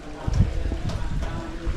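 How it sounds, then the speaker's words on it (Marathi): Strong wind during heavy rain in Konkan buffets the microphone in low, gusty thumps over a steady rushing background. "पाऊस काय कमी नाही होत आहे आणि वारा पण कमी नाही होत आहे"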